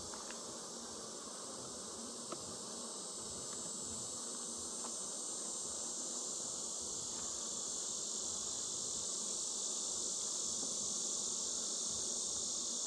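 Honeybees buzz in an open 8-frame hive, a dense steady hum close by with a constant high hissing drone, and a few faint ticks scattered through it.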